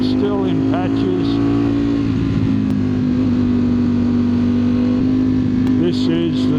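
A 2025 Ducati Streetfighter V4S is ridden on damp, twisty roads, its engine a steady droning tone that runs loud and close throughout while someone talks over it.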